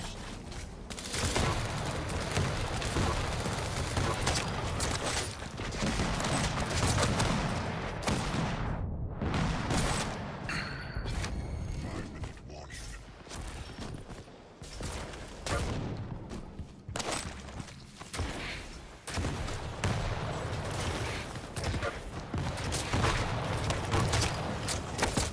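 Continuous loud bursts of rocket fire and explosions from the arena shooter Quake Champions, dense and booming throughout with a few brief gaps.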